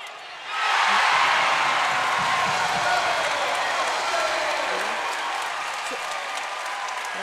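Arena crowd at an NC State women's basketball game against Virginia Tech bursts into loud sustained applause and cheering as three-pointers drop, swelling suddenly then holding steady, with a commentator talking over it.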